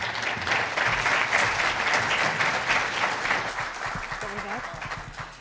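Applause from an audience at a university foundation gathering in Évora, a dense, steady clapping filling the room for several seconds before thinning out as a voice begins.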